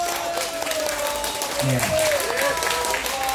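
An audience applauds steadily at a live Korean pumba (gakseori) performance show in Daejeon, with someone speaking briefly over the sustained clapping.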